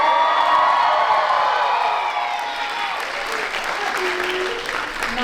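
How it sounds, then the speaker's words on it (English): An audience at a Philippine culture night show claps loudly with cheers and whoops, the applause strongest at first and then thinning slightly while scattered shouts and voices carry through. "Now, I know you guys love clapping"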